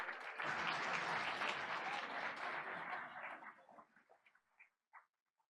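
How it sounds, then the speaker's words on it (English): Audience applause at a board of education meeting fills the room, loud and sustained, then thins into a few scattered claps before dying away. "let's give everyone from Del Rosa another round of applause"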